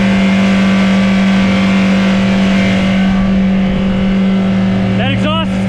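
A 19 ft jet boat engine with a leaking exhaust drones steadily and loudly with a strong low hum, running without a break, and a brief voice breaks in near the end.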